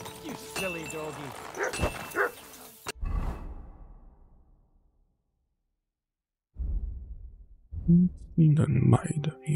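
A dog barks in the medieval video game Kingdom Come: Deliverance II, a few loud barks and yips near the start and again near the end with a silent gap between, alongside game character speech.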